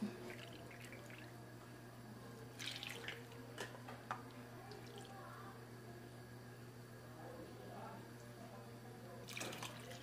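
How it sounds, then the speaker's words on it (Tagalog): Water poured from a cup into a sugar and glutinous rice flour mixture in a home kitchen, soft trickling and splashes with a few louder bursts over a steady low hum, faint and close. "lalagyan natin siya ng tubig na 2 cups"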